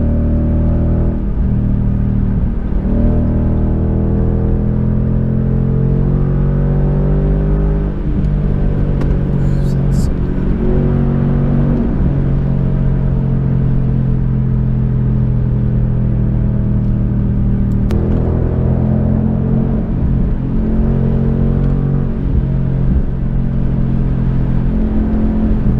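Car with a race exhaust pulling hard on a highway, the engine droning and rising through long sustained pulls, loud and close with steady rumble and whir throughout, no talking heard.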